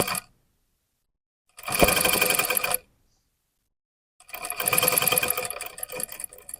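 A sewing machine stitches piping onto the back part of a garment in two short, loud bursts of rapid mechanical chatter, each about a second long, separated by a brief silence.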